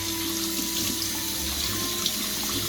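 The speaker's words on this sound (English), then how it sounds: "You want to put water on it and wash it off too." Tap water gushes steadily and loudly over strained spaghetti in a colander at a kitchen sink, a constant close-up rushing splash with no speech.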